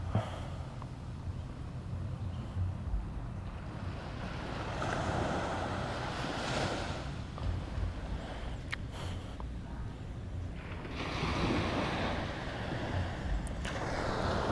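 Waves roll in at Karanggongso beach in Trenggalek, a soft continuous surf that swells and recedes in slow surges, mixed with gusty wind noise on the microphone.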